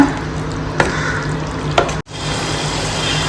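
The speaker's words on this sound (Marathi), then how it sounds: "पुन्हा एकदा परतून घेऊया" Steady sizzling of kokum and triphala sautéing in a hot pan, with two brief stirring scrapes and a momentary cut, continuous and close, with no voices.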